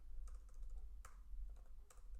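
Typing on a computer keyboard while entering a search for Star Wars Vintage Collection figures, a close run of light, uneven key taps with a few sharper presses, no voices.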